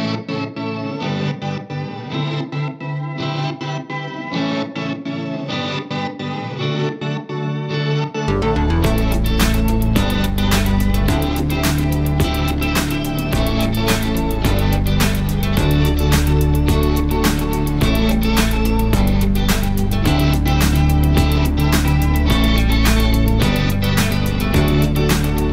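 Guitar through an EQD Astral Destiny pedal, its shimmering reverb wash sliced into rapid rhythmic stutters by a stutter switch; a quieter passage gives way to a louder, fuller section.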